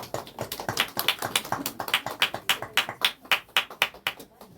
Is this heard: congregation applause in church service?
yes